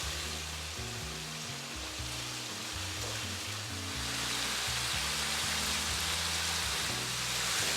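Purple yam bao buns frying in a pan until golden brown, a dense, even sizzle like steady rain that runs unbroken and fairly quietly, with a faint low hum underneath.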